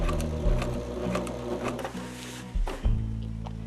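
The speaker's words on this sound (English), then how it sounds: "Lower my presser foot and then just start sewing" Close, continuous hum of a sewing machine hemming fabric with a rolled edge hemmer foot, its motor speed shifting slightly, with a few thumps near the end and no talking.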